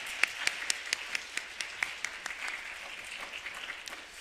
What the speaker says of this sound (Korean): 우리 감사의 박수로 하나님께 영광 돌리겠습니다